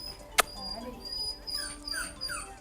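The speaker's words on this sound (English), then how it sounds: "Small miniature dogs like Biggie and smaller than Biggie require a totally different" A small miniature dog gives soft, high whimpers and whines close by in a quiet room, with one sharp yip near the start.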